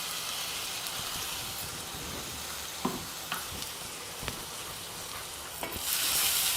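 Mint, green chili and ground garlic paste sautéing in a pan for millet pulao, a steady close sizzle with a few soft stirring scrapes and a louder hiss near the end, no talking.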